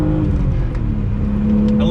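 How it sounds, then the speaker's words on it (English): A 1997 BMW E36 M3 engine with stock exhaust pulls hard in second gear, its steady drone climbing in pitch as the revs build toward the end. The sound is loud and close. "On throttle, second gear, let her wind out."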